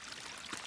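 A small stream trickles along a wilderness trail in the Ouachita Flatside Wilderness, making a faint, soft, continuous babble with no voices.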